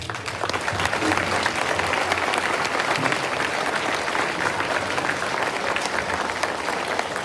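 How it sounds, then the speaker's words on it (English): Audience at an elementary school Veterans Day program applauds steadily and loudly for about seven seconds, a dense wash of many hands clapping together without letup. "So I'd like to give you guys a round of applause as well."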